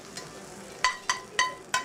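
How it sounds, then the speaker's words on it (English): Short bursts of food sizzling on a restaurant kitchen grill, four sharp crackling spurts in quick succession, fairly quiet and with no voices. "Here comes the sizzle."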